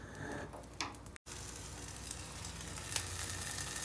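A snack fries in a hot pan with a steady, close sizzle and occasional small pops and crackles, with no talking over it.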